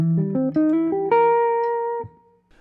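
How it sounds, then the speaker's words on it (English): An electric guitar plays a short jazz lick built on a 13 flat 9 chord shape. A quick rising run of clean single notes lands on a held tone that rings briefly, then fades out. "So our next lick is a very guitar-based shape and sounds like this."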